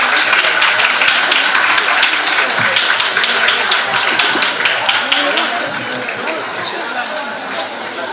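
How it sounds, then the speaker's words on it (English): Applause from an audience at a school award function, loud and sustained for several seconds before easing slightly, with chatter and voices mixed into the clapping. "Please give them a round of applause."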